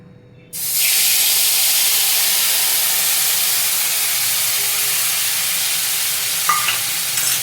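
Spiced water poured into hot oil left from frying pointed gourd for a Bengali doi potol dish: a sudden loud, steady hiss and sizzle of steam that bursts in after a quiet start and holds constant, with a faint clink near the end.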